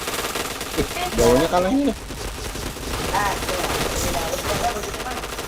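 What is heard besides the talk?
gunfire in a video game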